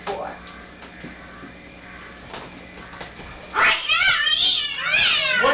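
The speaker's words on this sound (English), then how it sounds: "It's only the cats." Several cats meow and yowl in a drawn-out, wavering way in a stage play, loud and close in the second half after quieter shuffling and soft knocks.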